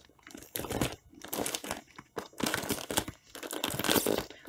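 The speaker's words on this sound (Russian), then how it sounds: "Ой, сейчас попробую оторвать скотч." Tape being peeled and torn off a plastic mail package, with several bursts of crinkling and ripping plastic, close and moderately loud, separated by short pauses.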